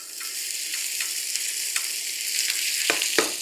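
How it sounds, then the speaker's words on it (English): Potatoes fry in hot ghee in a stainless steel pan, giving a bright, steady close sizzle with a few sharper crackles and scrapes toward the end. "and then add some of the potatoes."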